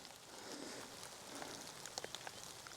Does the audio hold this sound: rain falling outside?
yes